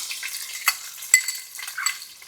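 Onions fry in a pan in a home kitchen, a soft continuous sizzle broken by a few sharp clicks and scrapes of stirring, close and fairly quiet with no talk.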